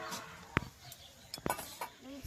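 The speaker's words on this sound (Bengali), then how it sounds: "এবার আমি এটাকে 10 মিনিটের জন্য ঢাকা দিয়ে দেবো।" A lid set over a cooking pot of chicken kanti in a village kitchen, with a couple of sharp metallic clinks and light clatter up close, heard against low background noise.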